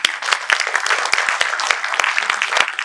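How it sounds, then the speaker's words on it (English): Audience applause at a Rotary-hosted literary conversation event, a dense burst of many hands clapping, steady and fairly loud throughout with sharp individual claps standing out. "A big round of applause, please."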